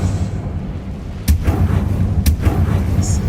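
The Incendio fire spell cast in the Hogwarts Legacy video game: two sharp magical bursts about a second apart over a low rumbling game background, followed by a faint high chime.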